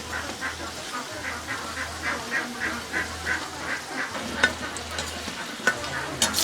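Continuous sizzling of gourd-leaf fritters frying in hot oil, with soft rhythmic stirring scrapes and occasional sharper pops, close up and without talk.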